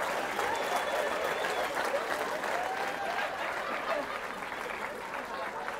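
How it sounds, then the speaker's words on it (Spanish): Crowd applause fills a live stand-up comedy show in Iztapalapa for comedian Lalo Elizarrarás, steady and dense throughout, with shouting voices and laughter mixed in. "¡Un aplauso para Lalo, por favor!"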